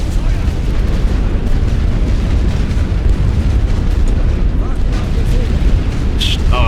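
In The Great War: Western Front, a First World War strategy game, artillery explosions rumble continuously with heavy booms layered into a loud, dense battlefield roar.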